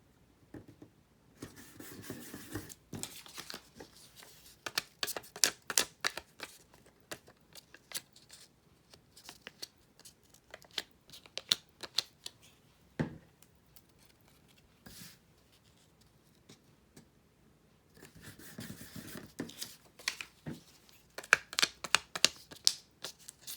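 A paper cutter with a worn blade slices paper in repeated bursts of crisp scraping and rustling, close and fairly quiet, with pauses between cuts and paper being handled.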